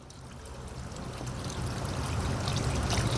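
Water pours steadily in a continuous splashing stream, growing slightly louder toward the end, with no voices.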